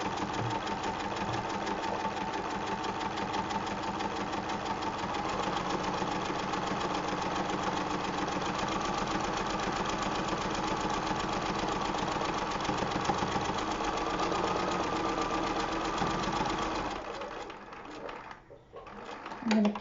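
Sewing machine back stitching a trivet, running in a long continuous rapid mechanical whir for most of the stretch before stopping near the end, with a few brief clicks after it falls quiet.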